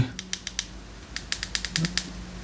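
Keys pressed one at a time on the keypad of a Kinnota K8 PoC handheld radio, a run of crisp clicks in two short bursts, close and fairly quiet, with no talking.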